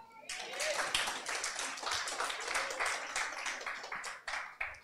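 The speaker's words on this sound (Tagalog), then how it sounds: "Sino dito gusto ng himala sa kanyang buhay? Pumalakpak!" A church congregation claps in a dense, lively burst of many hands, sustained and fairly near, with a few sharper strokes standing out toward the end and no talk over it.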